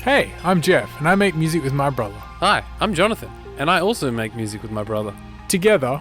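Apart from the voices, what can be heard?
No distinct noise like a dog, phone or traffic.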